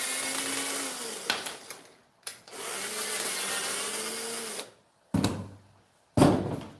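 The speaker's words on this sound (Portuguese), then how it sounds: "Soltar os parafusos." Power screwdriver loosening screws during assembly of curved sheet-metal gore sections, whirring in two long buzzing runs followed by short sharp clanks and knocks, close and alone with no talk.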